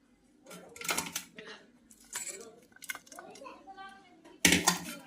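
A spoon mixes fried vegetables into appe batter in a bowl, giving several close, separate bursts of clinking and scraping against the vessel with quiet gaps in between.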